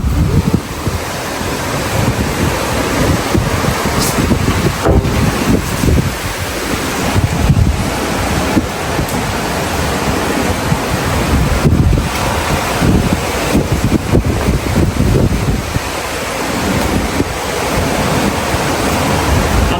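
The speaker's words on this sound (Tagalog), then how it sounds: "ipapakita ko po sa inyo ang maalon na dagat dahil sa sitwasyon ngayon" Rough sea waves crash against a resort shore in strong wind, a loud, continuous roar of surf with gusty buffeting across the microphone and no voices.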